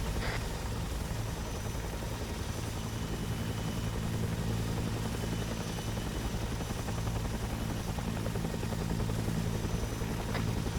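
Helicopter flying and banking in ArmA 3, a dense, constant roar of engine and rotor wash at steady loudness, close and unbroken.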